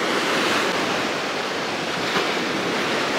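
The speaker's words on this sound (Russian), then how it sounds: "Ну, ветерок, вот видите, какие волны гонят." Waves washing onto an Azov Sea beach on a windy day, a loud, continuous roar of surf mixed with gusting wind noise across the microphone, with no voices.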